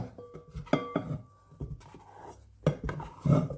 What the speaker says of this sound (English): put a bit of flour on it and then use it to scrape my dough out